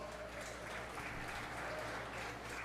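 Audience applause at a 4-H fair sheep show, a steady wash of clapping from a crowd around the show ring, sustained and fairly even throughout with no talk over it.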